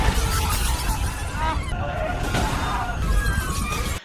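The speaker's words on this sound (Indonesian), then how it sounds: "melepaskan hakinya sehingga semua yang berada di sekitarnya hancur" A dense, continuous roar of crashing and shattering debris fills the whole span at high volume, a film effect of everything nearby being smashed apart by a released burst of power.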